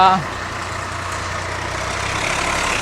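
A tractor trailer arriving at a tractor market in Moga, its engine giving a steady low idling drone close by after a brief voice at the start.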